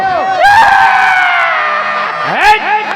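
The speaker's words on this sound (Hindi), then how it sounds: "ये क्यों चिल्ला रहे हो?" A performer shouts loudly during a Ramlila stage play, with long strained yelling cries that sustain, then break into further shouting near the end. The voice is close and dominant, and no other sounds cover it.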